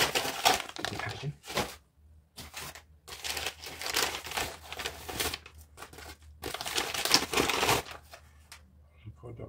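New plastic product packaging for a sample moisturizer crinkles and crackles close by in irregular bursts of handling, separated by short pauses.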